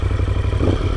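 Moto Guzzi 1200 Sport motorcycle with about 49,000 km firing up, its engine settling into a loud, close, steady idle with a throbbing low pulse, no voices.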